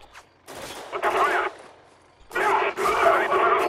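Bursts of automatic gunfire from the shooter game Spec Ops: The Line come in two loud, dense volleys with a short lull between them, and the firefight is close and harsh.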